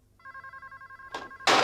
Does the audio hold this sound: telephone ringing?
yes